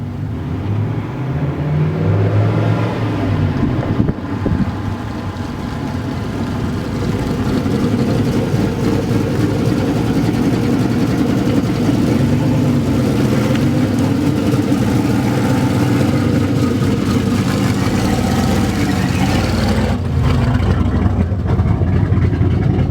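A straight-piped turbo Pontiac GTO runs under throttle, its exhaust a loud, continuous raspy drone with shifting low rumbling tones that holds steady and close throughout.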